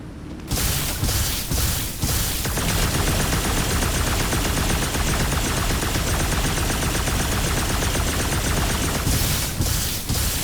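Sustained loud gunfire from the magic guns in Marvel's Guardians of the Galaxy, a continuous dense barrage of rapid shots and impacts that runs almost the entire time with no talking.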